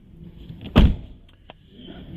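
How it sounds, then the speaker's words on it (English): A single solid thud of a Dodge Challenger or Charger door shutting nearby, followed by faint clicks in a quiet cabin. "You close the door."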